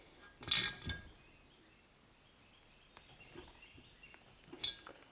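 A ratchet snugs the bolts on an aluminum intake elbow of a Ram 2500 6.7L Cummins during a grid heater delete. Two short, close ratcheting bursts are separated by quiet gaps with faint clicks.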